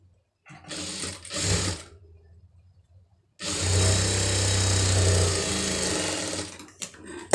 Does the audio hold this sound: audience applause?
no